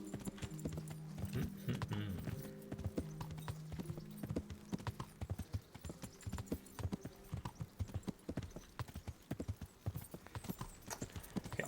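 Horse hooves clip-clop in a video game, a steady run of sharp rhythmic knocks that continues throughout, with a brief neigh-like tone early and no talk over the hoofbeats.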